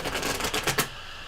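A deck of cards being shuffled in quick riffling bursts for just under a second, the repeated flutter of the cards close and fairly loud, then a quiet room afterward.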